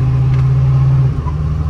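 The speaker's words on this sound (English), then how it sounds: "It's not a fast hot rod strung out motor by any means, but it's got that V8 power, make you happy to push the pedal down in a safe manner." A V8 engine in a 1949 Ford F1 hot rod restomod truck drones steadily with a strong low hum, then eases slightly partway through, heard alone from inside the cab.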